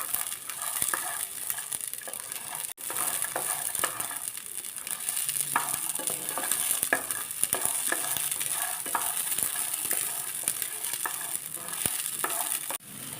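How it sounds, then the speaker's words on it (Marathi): Green peas roasting in hot oil for chutney, a steady close sizzle with scattered sharp pops and crackles as they burst, with occasional scrapes of stirring throughout. "हे बघा आता आपले वाटाणे फुटायला लागले, त्यामुळे चांगले भाजून निघायला लागले"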